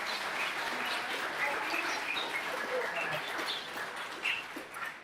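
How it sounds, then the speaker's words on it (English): An audience applauds poetry teaching artists at a summer poetry gathering, a steady wash of many hands clapping that holds at even loudness throughout, with faint scattered voices mixed in. "please give them another round of applause"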